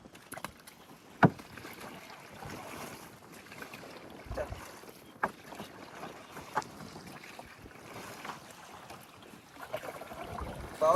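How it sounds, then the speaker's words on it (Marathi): Strong wind gusts buffet the microphone on open water while hook fishing from a small boat, with steady rushing noise and a few sharp knocks and thumps against the hull. "भावांनो आज वारा खूप आहे"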